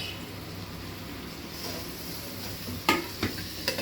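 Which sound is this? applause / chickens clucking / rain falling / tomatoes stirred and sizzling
tomatoes stirred and sizzling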